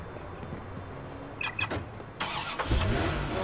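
A car engine cranks and catches in the video game Watch Dogs, preceded by a couple of quick electric whirs and clicks, then a low rumble settling in at close range.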